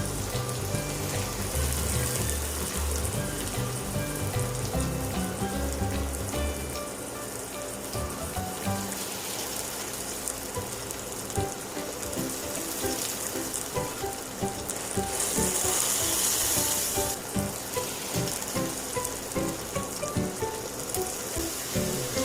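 A beef steak frying in a pan with crushed garlic, sizzling steadily and crackling close up for a long stretch, the hiss surging louder at times, with soft music underneath.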